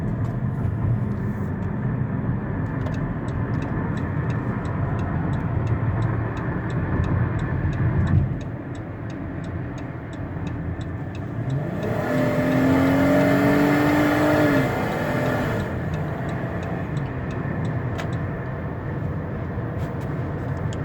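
Steady road and engine rumble inside a 2018 Dodge Caravan SE wheelchair van cruising down the road, a continuous smooth drone with a brief swell and a faint rising tone midway.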